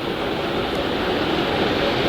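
A steady, broad roar of sound suppression water flowing under an Artemis rocket launch pad before liftoff, loud and continuous like a powerful torrent, with no voices over it.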